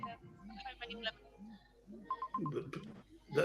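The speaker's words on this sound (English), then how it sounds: "My phone's going." A phone rings or chimes with repeated short tonal bursts, heard close alongside people talking on a live show.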